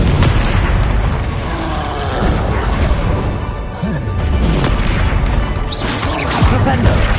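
Loud, near-constant booming from Confringo fire blast spells exploding in Hogwarts Legacy, crashes and bursts piling up in a dense battle din with a voice underneath.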